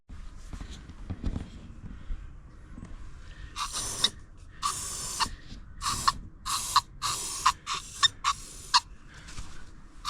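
Hairspray from an aerosol can sprayed under the hood of a broken-down Dacia car engine as a starting aid: after a quiet stretch of faint handling noises, a run of loud, close hissing bursts of varied length, about eight in a row.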